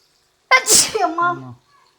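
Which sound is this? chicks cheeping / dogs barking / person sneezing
person sneezing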